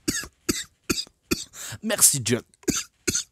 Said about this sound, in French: Excusez-moi de tousser devant vous